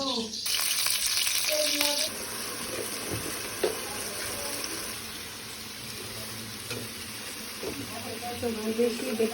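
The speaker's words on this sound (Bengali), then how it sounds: "সবজি বাজি করা হচ্ছে বাঁধাকপি আলু তারপর বেগুন একসাথে মিক্স করা" Cabbage, potato and eggplant fry together in a pan, giving a steady broadband sizzle that runs the whole time, with faint background voices and a few light clinks mixed in.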